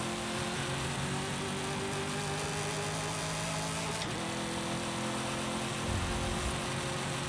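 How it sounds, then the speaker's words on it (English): A Plymouth Belvedere drag car engine idles steadily in the video game Forza Horizon 5, a continuous low mechanical hum and rumble with a brief shift partway through and no talking. "My favorite thing about the engine is the way it idles."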